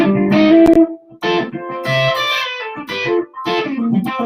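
Electric guitar played with double-stop chicken picking, the middle finger pulling up and popping the strings, giving bright twangy plucked pairs of notes in short phrases with brief gaps, loud and alone.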